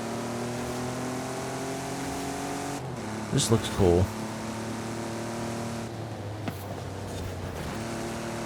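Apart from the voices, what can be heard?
truck racing in Forza Horizon 5 video game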